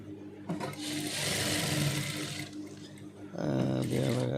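A sewing machine stitches a blouse in steady running bursts, with a short pause and a louder restart toward the end, close and alone without speech.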